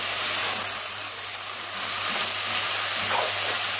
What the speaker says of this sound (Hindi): साबुत जीरा, मेथी, गरम मसाला पाउडर, ये ऐड कर लें। इन्हें डालकर अच्छी तरह से भून लें